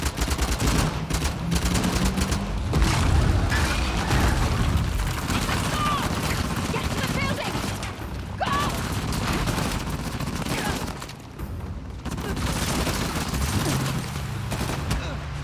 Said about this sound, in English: You can't still be shooting me.